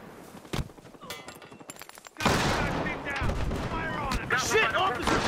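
Shotgun fire in Battlefield Hardline, a loud flurry of blasts and ricochets after a quieter opening with a single shot, while voices talk over the action.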